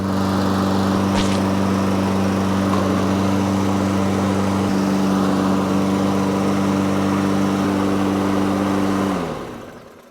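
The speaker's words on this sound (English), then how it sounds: "Okay, so that mower started right up on the first pull and it flies with that front wheel drive." A Toro Recycler 21445 22-inch front-wheel-drive walk-behind lawn mower runs steadily after starting on the first pull, its engine a loud, close, even drone that cuts off and winds down near the end, with no talking.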